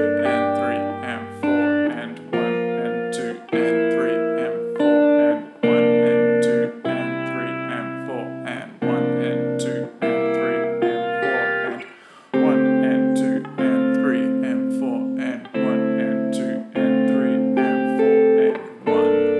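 Guitar playing a chord progression, clean picked chords ringing in a slow steady rhythm, each chord changing every couple of seconds, alone with no talking.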